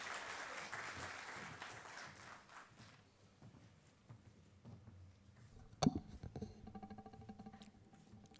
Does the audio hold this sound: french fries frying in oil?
no